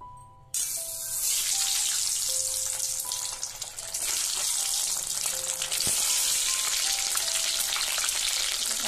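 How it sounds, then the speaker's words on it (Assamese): Egg frying in mustard oil in a wok for breakfast, a steady loud sizzle that jumps up suddenly near the start and carries on continuously, with faint clinks and no talking. "কণী ভাজিবৰ কাৰণে মই প্ৰথমত কণীটো ভাজিম তাৰপৰা তেল দি লৈছোঁ কেৰাহীত মিঠাতেল"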